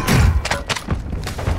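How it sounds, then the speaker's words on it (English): Mortar strike blasts in Warzone 2.0 on Ashika Island, heavy low thuds booming in a quick cluster and then several fainter follow-up impacts, loud and close. "Friendly mortar strike on the way."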